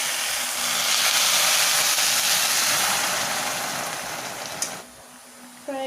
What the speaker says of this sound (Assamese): এতিয়া পানী দিব গৰম পানী দিলে বেছি ভাল হয়